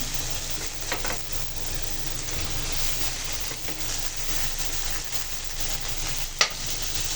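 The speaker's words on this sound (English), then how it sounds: "we're gonna let this like about 10 to 20 seconds so it gets crispy on the fat" Fat cap of a T-bone steak sizzling in a hot pan, a steady loud crackling hiss with faint occasional pops and one sharp tap near the end, no voices.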